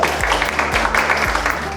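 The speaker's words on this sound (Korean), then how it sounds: "박수 부탁드리겠습니다" A hall audience claps at a 2022 game development training showcase, a brief burst of applause heard under loud stepped background music.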